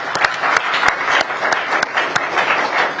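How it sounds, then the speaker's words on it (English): Audience at a China forum on the CCP and US–China relations claps for a speaker, a fairly loud round of applause with a few sharp, distinct hand claps standing out in an uneven rhythm. "So let's give a big round of applause for Tsai Ing."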